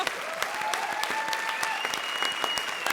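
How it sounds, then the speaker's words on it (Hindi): A studio audience at a comedy show breaks into loud, dense applause, many hands clapping in a continuous roar with faint cheering threaded through. "संजीव शर्मा जी के लिए जोरदार ताली बजाइए।"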